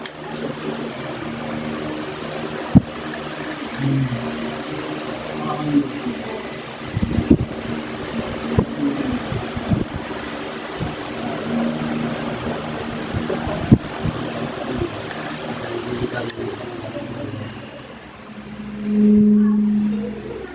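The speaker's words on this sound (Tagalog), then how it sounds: "Patay mo na electric fan" A steady mechanical whir runs throughout, like an electric fan humming, with a few soft knocks and thumps scattered over it.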